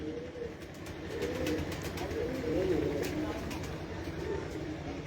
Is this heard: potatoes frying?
no